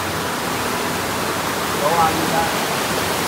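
A waterfall heard from a bridge, a loud, steady rushing roar that fills the whole scene, with a brief voice speaking over it.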